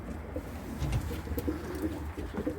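Low, soft pigeon coos rumble through a murky background, a few muffled calls repeating close by from old-breed pigeons.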